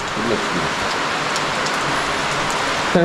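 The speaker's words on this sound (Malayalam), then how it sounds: "അങ്ങനെ അവസാനം നമുക്കിതാ മഴയും കിട്ടിയിരിക്കുകയാണ്" Steady, dense rain pours down close by at a jungle campsite in Munnar, Kerala, a constant loud wash of drops with no pauses.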